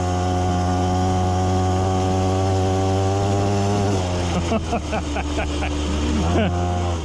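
A small engine on a cheap Temu dirt bike drones steadily up close, then its pitch rises and wavers in quick revs as the throttle opens; speech appears briefly.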